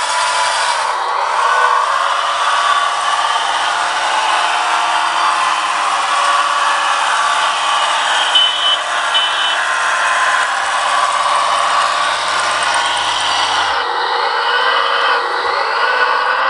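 A Wedico 740 RC truck fitted with upgraded tire chains runs in a steady, loud mechanical whine with a buzzy electric drive tone, holding level throughout before easing slightly near the end.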